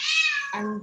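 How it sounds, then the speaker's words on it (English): A pet cat meows once, close and fairly loud, a bright drawn-out call that drops in pitch near the end. "sorry, that's my cat."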